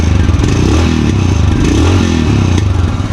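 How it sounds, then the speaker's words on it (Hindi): Royal Enfield Himalayan Scram 411 motorcycle idling close by, a smooth, steady low exhaust thump with rhythmic pulsing and some mechanical clatter, loud and continuous with no talk. "यहाँ पे इसका एग्जॉस्ट नोट देखते हैं।"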